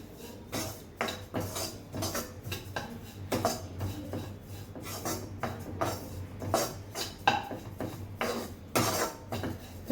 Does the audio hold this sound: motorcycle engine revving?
no